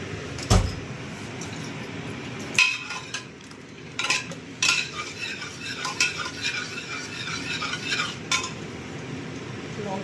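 Spoon stirring raw tomato dal in a pot, with boiled lentils and raw tomatoes: scraping clinks and knocks against the pot come in irregular bursts through the whole stretch over a soft background hiss, fairly close.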